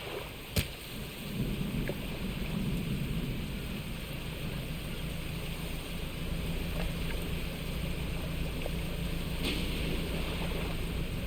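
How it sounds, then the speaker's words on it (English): Steady rain hisses with low thunder rumbling throughout a session of the fishing video game Dredge. A couple of brief sharp cracks punctuate the continuous, fairly loud wash of the storm. "It's raining."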